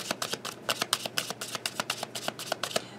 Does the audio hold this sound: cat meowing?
no